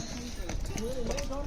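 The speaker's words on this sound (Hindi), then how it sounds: "और ये देखो आप, घोड़ों का जाम लगा हुआ है, लाइन से खड़े हैं" Horses lined up in a queue on a narrow mountain pilgrimage trail to the Amarnath cave via Pahalgam, hooves clip-clopping close by beneath continuous talk.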